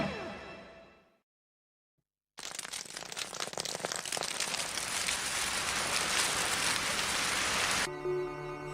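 Rain begins suddenly after a brief silence and pours as a loud, dense hiss of drops hitting a surface, holding steady for several seconds before cutting off into a tonal sound.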